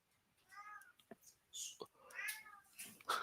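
Cats meow several times in a quiet room, with short rising and falling calls and a few soft thumps between them, fairly close but not loud.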